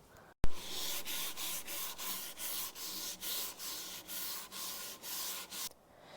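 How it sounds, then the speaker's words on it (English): Hand sanding of scrap-wood parts for a child's chair, a close, loud rasping rub in regular back-and-forth strokes about twice a second, with no voices. "We just want to sand it all up, all the rounds and everything."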